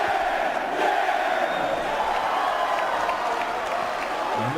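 A crowd in the wrestling video game WWE 2K18 cheers after a victory, a loud, dense roar of voices held steadily throughout, close and continuous.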